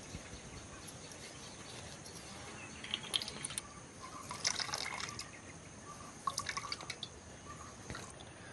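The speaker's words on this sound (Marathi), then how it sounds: "हे बघा असं ना सगळं ओतून घ्यायचं।" Homemade rose water is poured out, a faint close trickle with scattered drips and splashes that swell briefly in a couple of spots and play over a quiet background.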